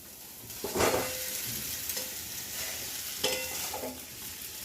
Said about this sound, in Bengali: কষা হয়ে গেছে দেখো তেল ছেড়ে দিয়েছে এবার আমি ওলটা দিয়ে দিচ্ছি